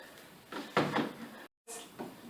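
Plastic drying basket fitted onto the door rack of a Samsung DV90H8000HW condenser dryer, a few soft clicks and knocks as its prongs seat, fairly quiet, with a brief gap mid-way.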